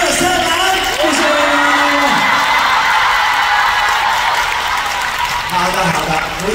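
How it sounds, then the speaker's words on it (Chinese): A large audience at a Super Junior fan party in Macau applauds and cheers loudly and steadily, with whoops and shouts rising over the clapping and a voice talking briefly near the start. "我们来一个最大的掌声，欢呼声送给各位好不好？"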